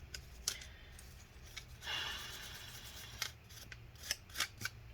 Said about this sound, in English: I'm going to brush off the dust from this thing.